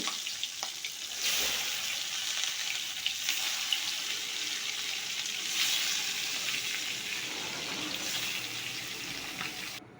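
Jiol fish fry in hot oil in a wok, a continuous close sizzle and hiss with surging bursts and occasional crackles over ten seconds, no voices.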